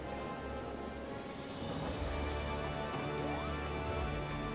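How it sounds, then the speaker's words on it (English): Light rain falls in the video game Final Fantasy XIV in the port city of Limsa Lominsa, an even close hiss of drops mixed with ambient game music and tones, with no voices. "Right now it's raining a little bit, but it doesn't hurt."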